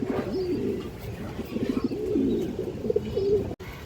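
Pigeons kept at a home breeder's loft coo repeatedly in soft, rolling, near phrases throughout, with a steady low murmur of background noise.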